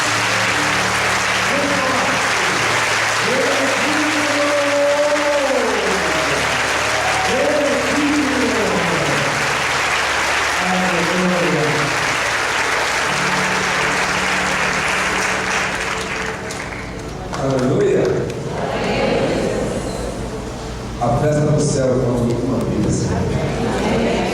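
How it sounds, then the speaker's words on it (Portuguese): Church congregation applauding during a worship service, sustained dense applause and crowd noise lasting most of the stretch, with a voice speaking or singing over it before it thins out near the end. "Você pode dar uma bonita salva de palmas ao Senhor."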